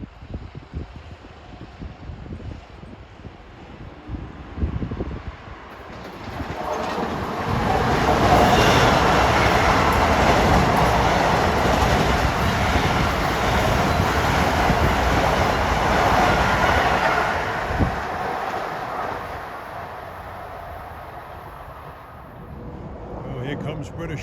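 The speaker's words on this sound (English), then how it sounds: "here comes train 1955 en route from Ronkonkoma to Penn Station." An LIRR M9 commuter train heading west on track 3 toward Penn Station passes close by, its rumble swelling from a quiet start into a loud sustained roar with rhythmic wheel clatter, then easing away near the end.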